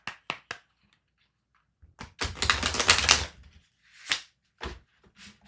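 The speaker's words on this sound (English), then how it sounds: "you're probably laughing at my card shuffling skills" A deck of tarot cards is shuffled close up in sharp, clattering bursts: a few quick flicks, then a dense riffling rush, then scattered single snaps and taps, with no talking.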